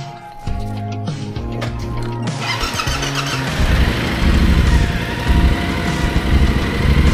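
A motorcycle engine revs on a steep mountain road, starting with a steady idling drone and then swelling into a loud, sustained rev with a rough, throttled roar from midway through. No one speaks.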